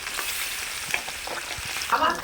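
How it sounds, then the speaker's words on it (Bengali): Potatoes fry in hot oil with fish masala and are stirred, a close, continuous sizzle with brief scrapes of the spoon and a louder crackle near the end. "ভালো করে মশলাটা দিয়ে এবার আলুটাকে কষাতে থাকবে"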